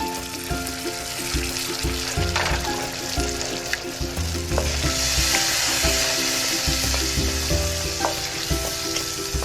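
Mixed seafood with tomato sauce sizzles loudly and steadily in a pan as brown sugar goes in, with occasional stirring clinks and scrapes up close.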